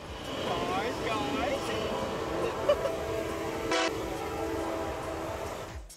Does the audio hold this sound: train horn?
yes